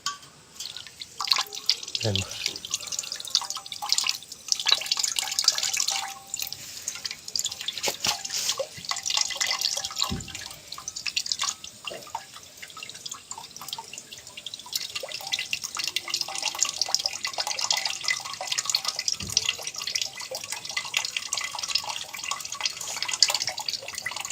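Steady trickling and dripping of water draining out of a gas cylinder, continuous and close, with a few dull knocks and people talking over it.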